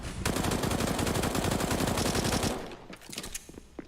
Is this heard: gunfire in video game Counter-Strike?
yes